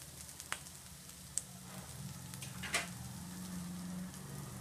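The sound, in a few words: frying dried prawns with onions in a pan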